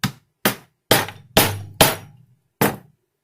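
Dowel rod tapped down onto a 12-gauge brass shotgun shell to seat the primer, six sharp separate knocks with brief ringing decay, close and loud in a quiet room.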